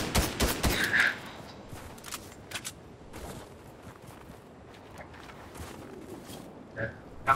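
A quick burst of rapid gunshots from a weapon in a war video game opens the passage, then scattered lighter shots and footsteps follow at a distance, with no talk.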